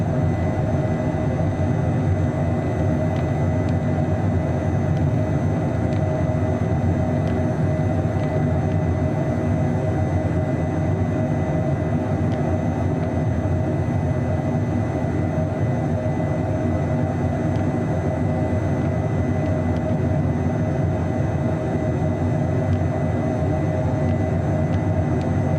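A FlightFX H420 jet climbs out after takeoff in Microsoft Flight Simulator 2024, a steady, loud engine roar that holds unchanged throughout with no talk over it.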